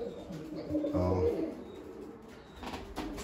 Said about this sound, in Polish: Przychodzą gołębie młode, pokażemy